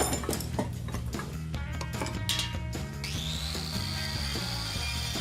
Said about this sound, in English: I'm just burnishing these.